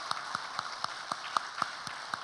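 Church congregation clapping in welcome for a new evangelist during a Sunday worship service, a slow, steady series of about ten distinct claps with faint room noise and no talking.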